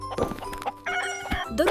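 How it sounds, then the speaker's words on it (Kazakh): A cartoon rooster crows, loud and close, in a short, bright, stylized call with a rising and falling pitch, set over a light musical backing. "Дұрыс, бұл тауық."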